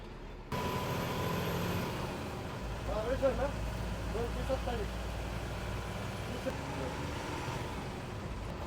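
An MSRTC bus sets off from Satara bus station toward Roha, its engine a steady low rumble heard from inside, with faint voices and a few tonal chirps over it.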